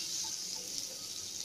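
A spoonful of butter melting in a little oil in a pan for Indian-style masala oats upma gives off a soft, even sizzle, faint and unbroken from start to finish.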